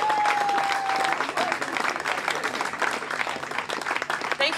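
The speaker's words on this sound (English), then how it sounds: "Can we have a round of applause?" A room full of people at a live music event applauds steadily, dense clapping that stays loud throughout with a faint tone briefly underneath.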